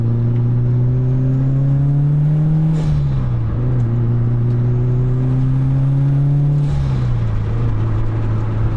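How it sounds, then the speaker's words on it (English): A turbocharged Mitsubishi Evo 9 accelerates hard, its loud engine drone climbing in pitch, dipping briefly at two gear changes, with turbo whoosh and whistle layered on top, heard from inside the car throughout. "Turbo noises is just freaking amazing."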